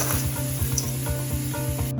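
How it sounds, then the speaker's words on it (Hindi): Crispy homemade nimko mix is tossed in a bowl, producing a close, rhythmic crunchy rustle that repeats in quick even strokes with no voices. "अब मैं इन सबको एक बाउल में जो है वो मिक्स करना शुरू करूँगी"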